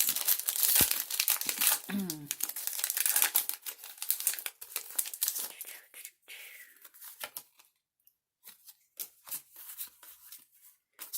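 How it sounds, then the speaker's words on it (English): Pokémon TCG booster pack wrappers being torn and crinkled open up close, crackling foil bursts with a sharp rip early on, then quieter rustling and handling with soft speech in between. "let's go ahead and open up the booster packs"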